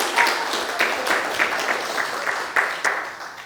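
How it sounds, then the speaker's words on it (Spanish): Church congregation clapping to celebrate the tenth anniversary of the Tarancón church, a moderate, somewhat thin round of applause with a few sharper bursts, fairly close and steady. "Pueden aplaudir."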